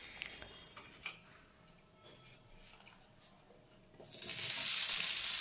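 Potatoes and curry leaves fry in ghee over a low flame. After a few seconds of near quiet with small ticks and clicks, a loud, steady sizzle bursts in abruptly and holds.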